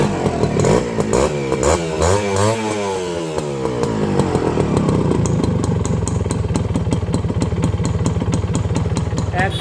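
A Honda CDI H100S motorcycle engine starts with a sputtering, rising rev, then settles into a loud, steady, rapid putter close by, with mechanical clatter running throughout.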